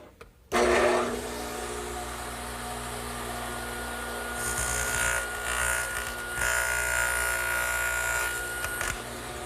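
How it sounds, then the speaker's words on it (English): Radial arm saw cutting a square corner pass in a wooden board, starting abruptly after a brief quiet moment, then a loud, steady whining drone, a higher rasp of the blade biting through the wood partway through, and no talking. "if I use the radial arm now to make a pass right here, I'll get a nice square corner"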